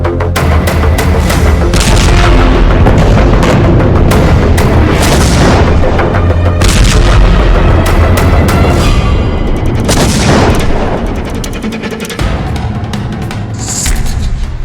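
Heavy bombardment and artillery fire roll across northern Gaza as a dense, continuous barrage of deep booms and rumbling blasts that stays very loud throughout and thins slightly toward the end.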